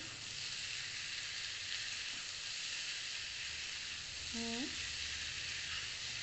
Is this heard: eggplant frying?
yes